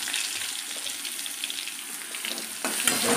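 Black cumin seeds go into hot oil as tempering, raising a loud, dense hiss that keeps on steadily, then swells a little brighter near the end, with no talk.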